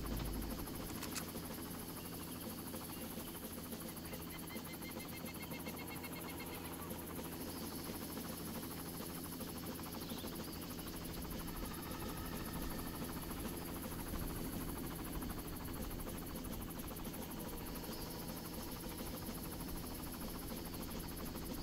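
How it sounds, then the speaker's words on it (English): Helicopter in Far Cry hovering steadily, a constant rotor drone holding level and unbroken throughout, with faint game ambience layered over it. "Now we're waiting on this helicopter to leave."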